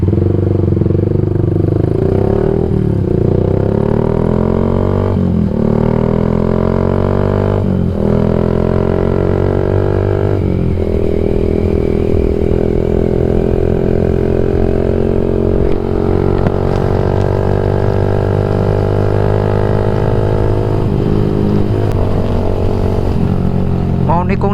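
Yamaha MX King 150 motorcycle fitted with a UB Bpro racing exhaust, its loud, close engine note rising and falling through repeated revs and gear changes, with a rough, throaty drone throughout and a voice speaking over it.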